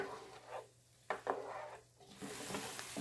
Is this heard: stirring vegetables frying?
yes